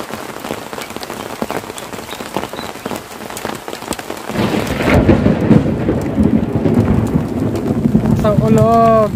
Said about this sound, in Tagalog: Isang kulog.